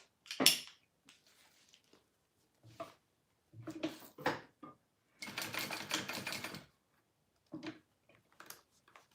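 A sewing machine top stitches a Delmar wristlet in short, irregular bursts of rapid mechanical clatter, one longer run in the middle, separated by silent pauses and small handling clicks.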